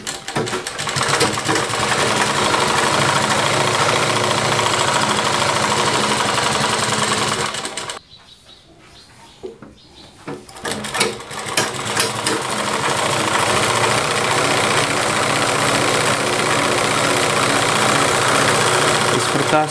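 Sewing machine stitching a seam in fabric for a lined Rajputi dress, running loud and steady for about eight seconds, pausing briefly, then starting up again and running continuously to the end.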